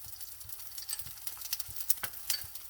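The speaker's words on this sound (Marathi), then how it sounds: "आता परत आपण ह्याच्यावर थोडंसं तूप टाकूया साईडने आणि दुसरी बाजू पण आपण छान त्याची भाजून घेऊया" Sabudana-stuffed fasting paratha roasting in ghee on a pan gives a faint, soft sizzle with scattered light crackles and a few quiet scraping touches, heard close with no talking.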